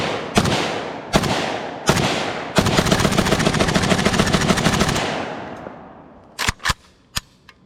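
Outdoor gunfire from a KUSA KP-104 AK-104 clone pistol: three loud single shots, then a rapid full-auto burst of about two and a half seconds that rings and decays, followed by a few more sharp reports.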